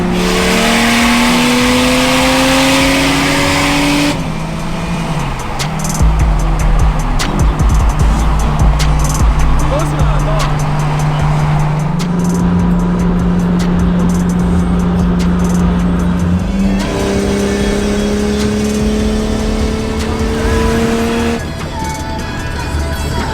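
Loud, continuous car engine drone and road rumble from inside a vehicle bouncing over a bumpy highway on corded tires; the engine pitch shifts a few times as it drives on.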